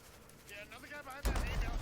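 A bomb explodes in Hunt: Showdown, a sudden loud, close blast with a broad low rumble that sustains after a stretch of quieter game sound and faint voice.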